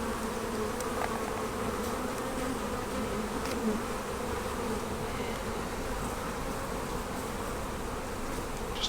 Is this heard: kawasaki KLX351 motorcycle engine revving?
no